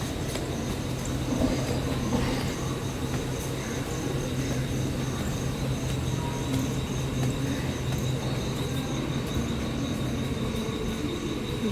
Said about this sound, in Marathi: गेली एक ट्रेन बघा.